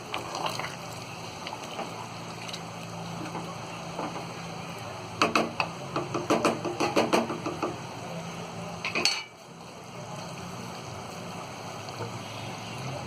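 Mutton fried with onions in a pot, with a burst of metal spoon scraping and clattering against the pan midway over a low steady background hiss, then quieter.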